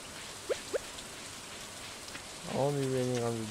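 Soft Stardew Valley rain patters faintly in the background, with a couple of short chirpy game blips early on and a rising tonal jingle near the end.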